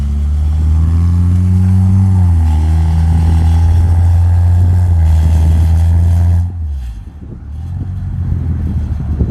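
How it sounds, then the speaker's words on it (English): A car launches hard from a standstill on a Canadian road, its loud engine note climbing steadily through a rising rev sweep for about six seconds before dropping off abruptly and returning lower. "Launching your car in Canada. Oh yeah, 0 to 60 real quick"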